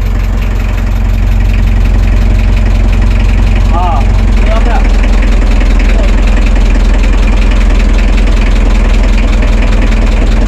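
A small boat engine runs loud and steady close by, with a low throbbing drone and wind, and a person briefly speaks over it.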